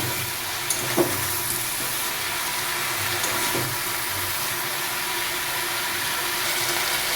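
Mixed vegetables fry in a pan with salt and turmeric for a vegetarian mixed-vegetable curry, giving a steady, close sizzling hiss throughout, with a few soft utensil clicks.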